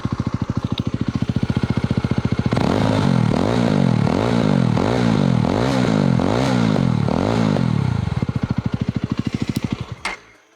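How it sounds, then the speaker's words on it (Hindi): A 2025 Yezdi Roadster motorcycle with dual exhausts idles with a loping thump, then revs up into a loud, throbbing burble of repeated blips for several seconds before dropping back to idle and cutting off. "ये चीज़ जो मुझे इसकी है सबसे बेहतर लगी है, इसका जो एग्जॉस्ट नोट है,"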